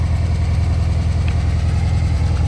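A 1964 Volkswagen Beetle engine idling nearby, a loud, steady low chugging throb with an even pulsing rhythm and no voices over it.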